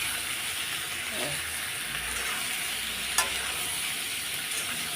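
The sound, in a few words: frying pointed gourd and potato with salt, turmeric, chilli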